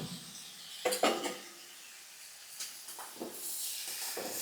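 Cauliflower curry in a pan hisses softly as it is stirred, with a few scraping knocks of the spoon against the metal and a steady sizzle rising toward the end, quiet and close.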